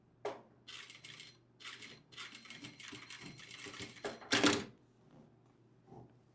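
A sewing machine runs in short bursts while stitching a casual long skirt seam, rapid mechanical stitching starting and stopping close by, with a louder clatter near the end.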